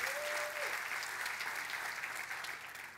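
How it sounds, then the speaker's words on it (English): Distant, fairly faint applause from a hackathon opening ceremony crowd in a San Francisco venue. It is a steady wash of many hands clapping, with a brief whistle at the start, and it tapers slightly toward the end. "can we get a round of applause for the Village?"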